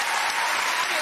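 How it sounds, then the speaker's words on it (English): A television studio audience applauds Formula One world champion Lewis Hamilton with a short, dense burst of clapping. "I round of applause."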